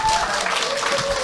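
Audience applause at a Korean business seminar: a short, dense burst of clapping from a crowd, fairly loud and steady throughout, with some voices mixed in.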